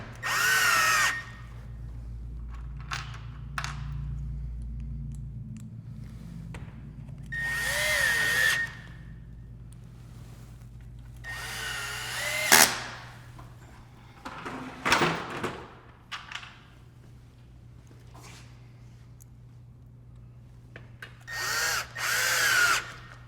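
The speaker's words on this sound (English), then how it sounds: "I'm going to add these last couple screws." A power drill drives the last few screws into a porch window frame during installation, several separate whirring bursts of a second or two each with quiet gaps between, fairly close and loud.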